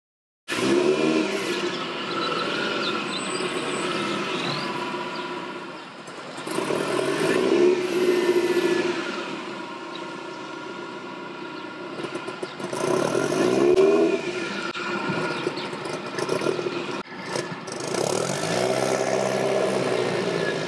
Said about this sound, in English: Test drove the car to see how it was running,